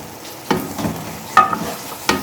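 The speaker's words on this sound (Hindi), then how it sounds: "तकरीबन 5 से 10 मिनट के लिए हम अच्छी तरह गोश्त को भूनेंगे।" Meat fries in desi ghee for butt karahi, a low sizzle broken by a few sharp spoon scrapes and stirs against the pan, close by with no talking.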